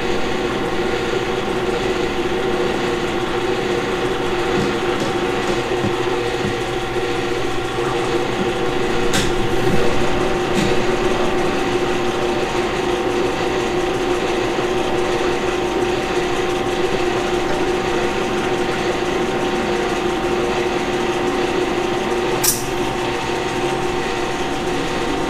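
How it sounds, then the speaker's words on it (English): A steady mechanical whir of a drill running continuously with a center drill bit, with a constant tonal hum and faint clicks, fairly close and even throughout. "I did go ahead and throw a center drill, starter drill bit in there."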